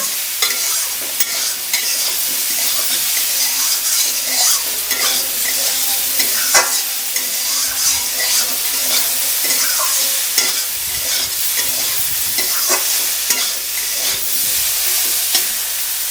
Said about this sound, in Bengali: এবার খুব সুন্দর করে একটু নাড়িয়ে নেবে